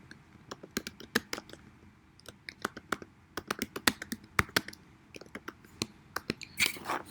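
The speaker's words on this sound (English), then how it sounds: "I press many spacebar between the page and the thing" Repeated spacebar presses and typing on a computer keyboard, giving close, crisp clicks in irregular quick runs and single taps, with a brief rustle near the end and no voices.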